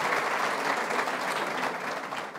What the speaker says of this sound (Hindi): पूरे पैनल के लिए तालियां बजा दूंगी